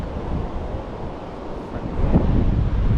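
Steady roar of water pouring over a spillway waterfall in Wisconsin, broad and continuous, growing slightly louder toward the end, heard outdoors without voices.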